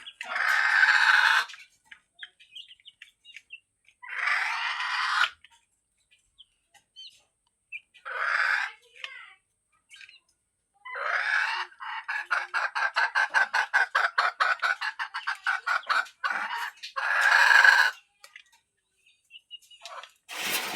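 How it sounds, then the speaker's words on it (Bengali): Native village chickens cluck and crow in a series of loud, close bursts, with one stretch of rapid rhythmic clucking in the middle and short quiet gaps between calls; no one speaks. "মুরগিগুলো দেখতে কি সুন্দর দেখা যাচ্ছে, দেখুন"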